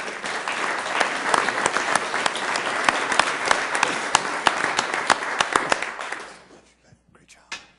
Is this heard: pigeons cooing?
no